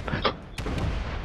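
Missile launches from a ship during a large space battle in the game Space Engineers, heard as two sharp bursts, the second one loud and sustained, set against a rumbling background.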